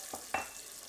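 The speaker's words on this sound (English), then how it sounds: "That's hot enough. And then I add the onions" Onions dropped into hot vegetable oil, giving two quick bursts of sizzle and then a steady, faint crackle over one second, with no voices.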